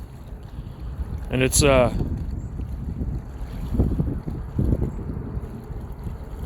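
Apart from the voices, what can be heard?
strong wind while flying Potensic Atom drone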